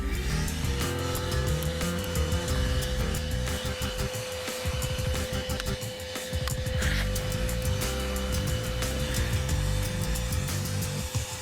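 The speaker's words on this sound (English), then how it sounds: "Have your vacuum on standby to suck up that hair." A vacuum cleaner sucks loosened hair out of car seat fabric with a loud, steady motor whine and airflow roar, its pitch wavering briefly as the nozzle moves, close and unbroken for the whole stretch.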